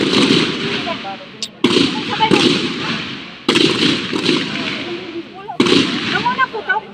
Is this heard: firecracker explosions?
yes